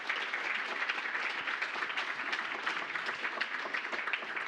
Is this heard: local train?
no